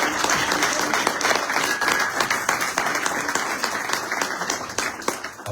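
Congregation applauding in a church during a sermon, loud sustained clapping from many people nearby, with voices mixed into the clapping.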